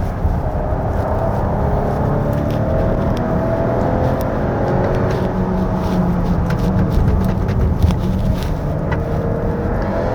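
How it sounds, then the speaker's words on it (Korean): A 2025 Volvo XC60 B6 AWD on a winding mountain road, its engine holding a loud, sustained drone with intake whoosh and road noise, steady throughout with no speech. "RPM에서 이거 왁 하고 네, 주변 공기를 다 빨아들이는 듯한 그런 소리가 좀 B5의 또 차이점입니다"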